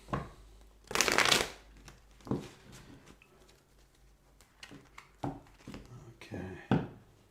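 Tarot cards shuffled by hand in a few distinct riffling bursts, the loudest and longest early on, followed by shorter flutters and soft taps, close and fairly quiet against a still room.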